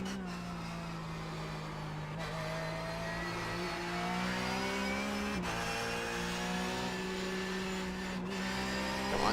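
A Porsche 911 GT3 Cup race car engine in the iRacing sim, revving up through rising gears with sharp gear changes and a steady high-pitched drone, loud and alone.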